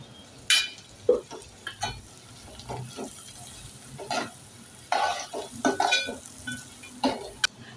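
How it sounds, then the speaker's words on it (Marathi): Mixed sprouts sautéed with turmeric, garam masala and Kashmiri red chili powder, a quiet sizzle under repeated scraping and clinking of a spoon against the pan in irregular bursts. "आता हे चांगलं परतवून घेऊया।"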